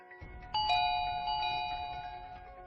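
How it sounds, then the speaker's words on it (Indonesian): A doorbell chimes once, a bright two-tone ding-dong that rings out and slowly fades against a quiet background. "menekan bel, namun tak ada satupun yang datang untuk membuka"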